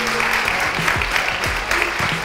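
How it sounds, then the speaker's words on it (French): Audience applause at a 2019 HR conference, steady dense clapping filling the room throughout, with faint talk underneath. "Alors on peut les applaudir"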